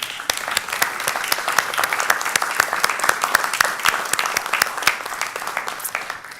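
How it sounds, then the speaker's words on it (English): An Iowa Board of Regents meeting audience gives a close, loud round of applause, with dense and even clapping throughout and no talk over it. "let's give him a round of applause."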